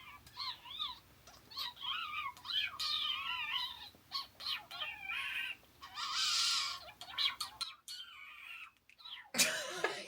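Warbling, chirpy synthetic tones sweep up and down in quick bursts, a voice imitating robot noises through a plugin, loud and close with brief pauses and a harsh burst near the end.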